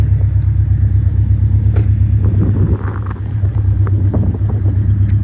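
A 2011 Subaru STI engine idles steadily, heard from outside the car: a loud, continuous low rumble with an even burble and no breaks.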